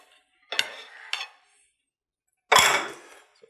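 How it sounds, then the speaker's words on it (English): A knife clinks and scrapes against a plate while cutting a slice of strawberry cheesecake, giving two short taps followed by a louder, longer scrape, close and clear with no talk. "So we'll just cut across the cheesecake. And we'll just take a small little slice."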